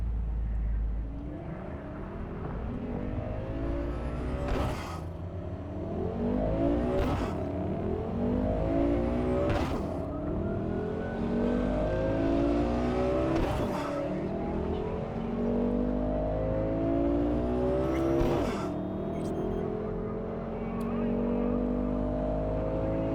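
A car drives through Night City in Cyberpunk 2077, its engine revving up and down through repeated gear shifts, steady and close, with occasional talking over it.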